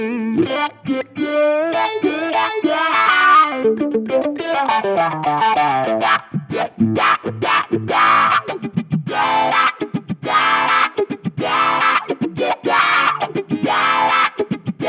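Electric guitar played on a tapped neck pickup through a Quad Cortex Brit 2203 amp model, a steady run of picked notes and chords with distortion and heavy modulation effects, loud and continuous with no talking.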